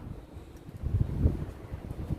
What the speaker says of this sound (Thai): พอขึ้นมาด้านบนนี่ลม ลมวูบเลยครับ ถือว่าเย็นฉ่ำมากเลย ลมภายนอกเข้ามา